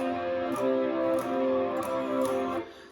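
Sustained guitar barre chords strummed in a steady rhythm, roughly four strums ringing out one after another, then cut off near the end.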